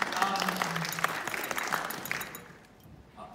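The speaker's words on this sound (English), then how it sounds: "Yes, please applaud." Applause from an audience at a coaching session, dense clapping heard at moderate distance that gradually fades away, with a few vocal sounds mixed in near the start.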